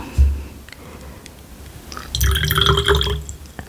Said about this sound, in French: On y verse au départ un petit peu d'eau pure